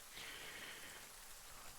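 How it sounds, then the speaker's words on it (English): Steady rain sound effect, a dense continuous hiss of falling rain on a surface, very faint and even throughout with no talking. "stop the rain sound now"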